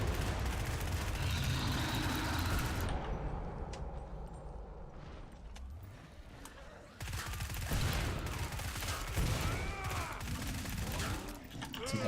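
Rapid bursts of gunfire in the co-op shooter Killing Floor 2, loud and dense, with a brief lull of scattered shots midway before heavy firing resumes; faint voices occasionally under the din.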